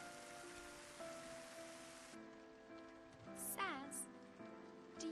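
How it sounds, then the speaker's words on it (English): Rain falls in Final Fantasy XIII at the Sunleth Waterscape. It is a soft, continuous patter mixed under gentle tonal music and chirping effects. "When it rains around here, it pours. And then it rains some more."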